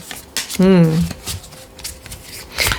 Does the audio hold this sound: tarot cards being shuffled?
yes